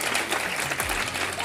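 An audience claps in a continuous dense patter at a talent-show dance event, with a faint voice briefly underneath.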